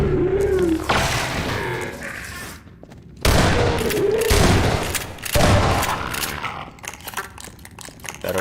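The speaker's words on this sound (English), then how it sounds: "that zombie was about to throw the explosive barrel at me" An explosive barrel blowing up in Half-Life 2: Episode Two, with heavy booming blasts and rumbling debris, loud and close, repeated in a few bursts amid game noise.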